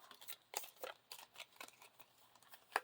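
Quiet, close-up papery riffling and snapping in a quick irregular rhythm, like a deck of playing cards being shuffled.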